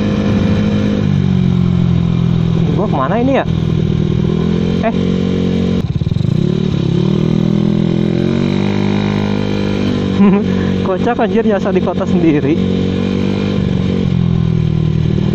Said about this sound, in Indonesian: Semoga kalian puas dengan suara knalpot AHM Vario